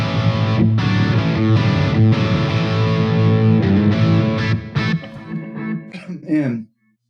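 Electric guitar played through the dirty amp model of a Peavey Vypyr Pro 100 modeling amplifier, thick distorted chords ringing loud and close, breaking into choppier strums before cutting to silence at the end.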